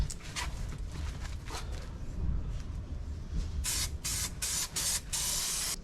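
An aerosol can of adhesive sprays onto the back of four-way stretch carpet inside a Citroen Dispatch micro camper van, giving several short hissing bursts and then a run of louder, longer, close spray blasts.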